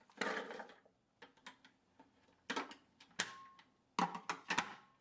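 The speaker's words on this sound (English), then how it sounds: "Put the work bowl on." The plastic work bowl of a Cuisinart 9-cup continuous feed food processor is set and twisted onto its base, giving sharp hard-plastic clicks, knocks and scrapes in uneven bursts, close and clear with no talk.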